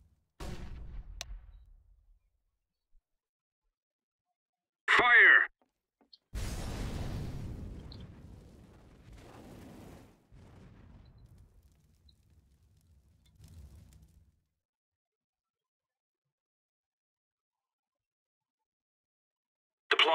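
A flashbang grenade detonates in a video game: a sharp burst near the five-second mark, then a longer roaring blast that fades away over several seconds, with another brief crack at the very end.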